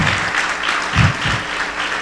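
Congregation applauding inside a church during a theology lecture event, a steady dense wash of clapping from many hands at moderate loudness, with no voices standing out.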